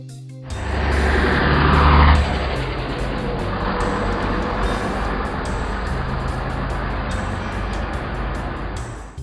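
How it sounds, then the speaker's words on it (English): A heavy articulated bus engine rumbles up close, growing louder in the first seconds, then holding a steady, droning roar. "Articulated bus."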